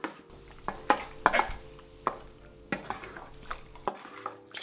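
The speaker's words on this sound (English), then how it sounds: "I'm just going to add mushrooms right to it. And then give it a mix." Mushrooms are stirred into an acidic sauce in a bowl, with a series of separate wet clacks and scrapes of the utensil at an uneven rhythm, heard close over a quiet low hum.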